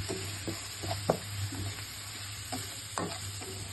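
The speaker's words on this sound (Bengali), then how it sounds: "খুব ভালোভাবে মশলাটা আমার কষায় নিতে হবে।" Spice paste with turmeric, red chili, coriander and cumin powders sautéing in a pan, a soft steady sizzle broken by repeated scraping stirs and knocks of the spoon, quiet and close.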